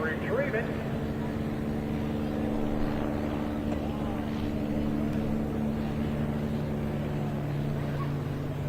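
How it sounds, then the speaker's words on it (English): A patrol boat motor drones steadily on San Diego Bay during a boat race, a low humming engine with faint voices underneath. "Here comes a patrol boat to go out and retrieve it."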